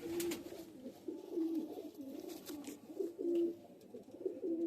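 Kalanka and Fulsira pigeons coo softly and repeatedly in a home loft, a low, rolling murmur that swells and fades in steady waves with no talking.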